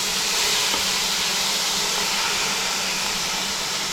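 Meat searing in a hot pan while camping with a teardrop trailer, a loud, steady, broadband sizzle and hiss filling the whole moment without any pause.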